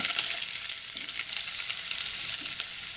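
Onion frying in hot oil, a dense, steady hiss and sizzle with light stirring, close and even throughout.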